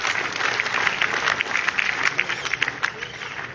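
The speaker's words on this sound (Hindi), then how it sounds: "मैं जोरदार तालियों से उनका इस्तकबाल करता हूं।" An audience at a school annual day celebration in Rajouri applauds, with brisk, fairly close clapping rising and falling in small swells for a few seconds.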